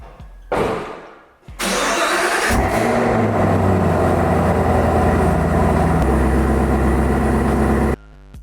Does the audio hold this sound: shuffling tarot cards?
no